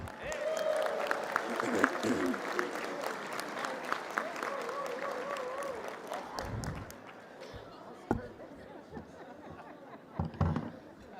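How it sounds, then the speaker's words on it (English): Banquet audience at a National Federation of the Blind convention applauds the head table, a broad wash of crowd clapping with chatter that tapers off after about six seconds into murmuring and scattered sounds. "So let's have a round of applause for our head table."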